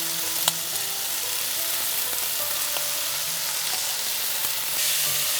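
Wild boar meat and onions fry in a pan with a steady, dense sizzle throughout, a couple of sharp pops and utensil clicks, and the frying swelling slightly louder near the end.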